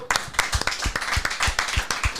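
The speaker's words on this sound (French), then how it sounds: "On peut l'applaudir." A comedy show audience claps, with sharp, closely spaced hand claps forming lively, moderately loud applause that continues steadily throughout.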